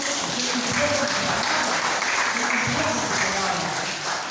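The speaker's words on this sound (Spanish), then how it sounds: "Aplausos para Cristo." Congregation applause during an Easter Sunday sermon in a church, a sustained wash of clapping held at an even level throughout, with voices audible beneath it.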